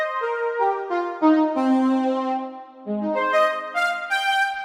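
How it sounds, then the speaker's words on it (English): A Kawai K5000S additive synthesizer playing a saxophone-like sawtooth patch, a melodic line of sustained, bright, reedy notes stepping down then up, clear and alone with no talk. "sort of saxophone-y type sound, but it gives you that that additive synth character to it."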